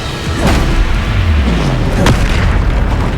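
A Bombarda spell explosion in the video game Hogwarts Legacy, a loud booming blast with a second burst shortly after, over continuous game noise.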